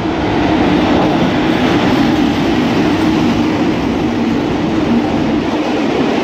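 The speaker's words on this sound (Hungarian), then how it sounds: "És egy szili húzza, sőt egy retro MÁV kocsi" A MÁV passenger train hauled by a Szili electric locomotive, with a retro MÁV carriage, rumbles past at night in a loud, steady roar with continuous rolling wheel noise and faint rhythmic clatter throughout.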